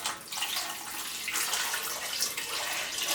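Warm water, about a cup and a quarter, pours steadily into a bowl to activate yeast for baking, a continuous splashing stream that fills the whole stretch with no talk.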